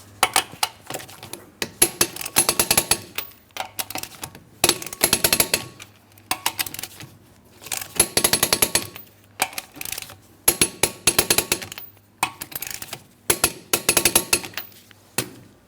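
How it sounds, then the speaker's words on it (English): Metallic clicks come in a series of sharp bursts as a torque wrench tightens lug nuts on a 2003-2007 Cadillac CTS wheel, close and loud, with brief pauses between nuts. "Let's go ahead and torque these lug nuts to that 100 foot-pounds."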